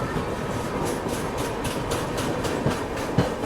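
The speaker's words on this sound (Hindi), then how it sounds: "फाइनली ये ट्रेन अब एक्सेलरेट करेगी, क्योंकि कॉशन फॉलो कर रही थी।" Rail journey aboard an express train hauled by a WAP-7 electric locomotive as it picks up speed, with steady rolling rumble and rhythmic clickety-clack of wheels over rail joints, continuous and fairly loud without talk.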